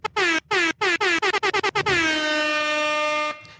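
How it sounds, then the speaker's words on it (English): An air horn sound effect blares in a rapid string of short, loud staccato blasts, then settles into one long sustained honk before cutting off. "Can I give him an air horn?"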